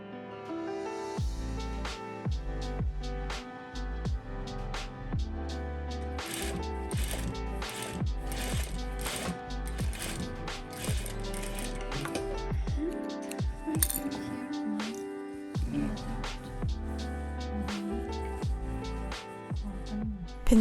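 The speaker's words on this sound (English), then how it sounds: "My fingers here are pushing the fabric under the machine foot as I'm sewing with a gathering or basting stitch" Domestic sewing machine running a gathering or basting stitch through dress fabric for a ruffle, a steady mechanical whirr with rapid rhythmic clicking and ticking over about twenty seconds, close and alone.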